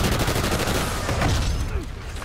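Rapid automatic gunfire in Call of Duty Ghosts, a dense, loud, continuous volley of shots close up, with no talk over it.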